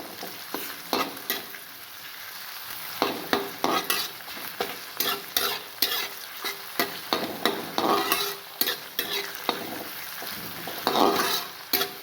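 Sliced onions, split green chillies and ginger-garlic paste fry for biryani, a continuous close sizzle punctuated by frequent rhythmic scraping and stirring strokes against the pan.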